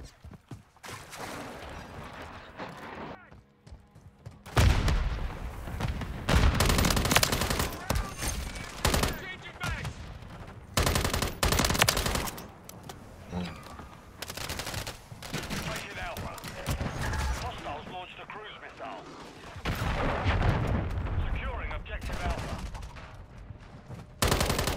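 Sniper shots and bursts of automatic gunfire from Call of Duty MWIII multiplayer crack repeatedly in loud clusters amid game noise, with a player speaking intermittently.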